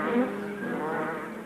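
Bees buzz steadily as they converge on a good feeding place, a continuous close insect drone with a slightly louder swell near the start, no voices present.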